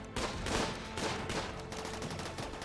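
Rapid bursts of gunfire from the video game RimWorld, a dense fusillade of overlapping shots rattling steadily for a few seconds with no talk over it.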